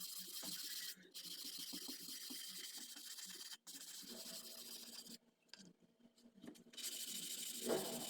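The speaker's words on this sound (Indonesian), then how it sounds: "selanjutnya kita amplas menggunakan amplas duko sampai merata dan halus" Duco sandpaper rubs over dried putty on plywood in a continuous, raspy scrubbing, broken by short pauses; a faint voice is heard.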